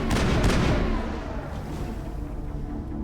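An accidental bomb blast in Mass Effect opens with a loud booming burst that rolls into a long, dull rumbling decay.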